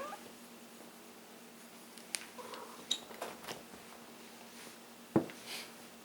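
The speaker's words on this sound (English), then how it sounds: "And I have a cat who obviously wants attention." A house cat meows faintly for attention during Glock 19 cleaning. A few soft, scattered cries mix with light handling clicks and taps in a quiet room.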